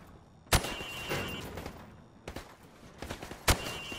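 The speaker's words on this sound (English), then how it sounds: "Now, shoot each target while aiming down the sights." Sharp single rifle shots at targets on a firing range in Call of Duty: Modern Warfare Remastered, three loud cracks spaced a second or more apart with smaller pops between, all over a quiet background.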